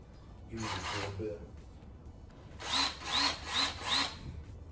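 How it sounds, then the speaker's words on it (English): A power drill whirs in short bursts while drilling pilot holes for wall anchors, one longer run followed by four quick, evenly spaced pulses, close by and fairly loud. "I'm gonna get started on the pilot holes for the anchors"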